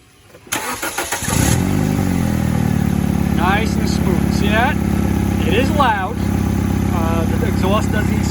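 A car engine with an ignition coil pack misfire cranks and starts, then settles into a loud, steady idle with an uneven, stumbling rhythm, while voices talk over it.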